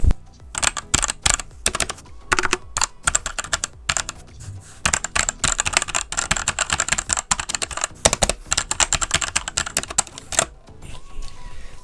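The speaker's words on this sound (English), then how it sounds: "the clicks sound pretty reasonable for this type of keyboard" Fast, uneven clicking of keys on a Cooler Master CK550 v2 mechanical keyboard, recorded up close, with bursts of rapid strokes separated by short pauses and no voice.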